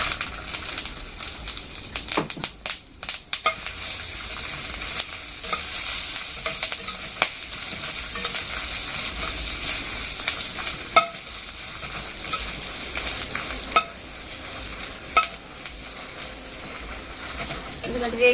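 Ingredients for curry leaf pickle frying in hot oil in a kadai while being stirred, a loud, continuous sizzle broken by repeated ladle scrapes and clatters, close up.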